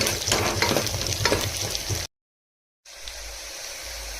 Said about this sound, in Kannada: ಈರುಳ್ಳಿ ಸ್ವಲ್ಪ ಬ್ರೌನ್ ಕಲರ್ ಬಾಡಬೇಕು, ಅಲ್ಲಿವರೆಗೂ ಫ್ರೈ ಮಾಡಬೇಕು ನಾವು.